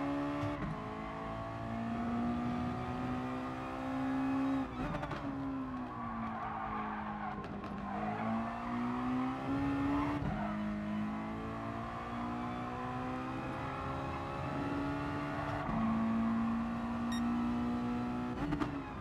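A Mazda MX5 touring car on hard racing tyres in GT Sport, its engine droning and shifting pitch through acceleration and gear changes, with tyre squeal and skidding throughout. The car sounds close and steady, with no talk.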